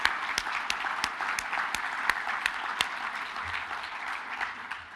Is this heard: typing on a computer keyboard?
no